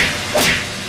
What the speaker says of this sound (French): Je reconnais son coup de poing rageur.